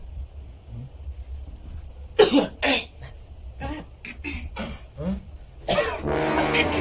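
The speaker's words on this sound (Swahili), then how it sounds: "nani anakohoa huyo kama mwanaume?" A man coughs in several harsh, close bursts spread over a few seconds, followed by a short stretch of voice.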